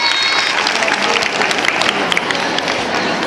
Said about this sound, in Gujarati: તો તાળી વધારે હોવી જોઈએ ને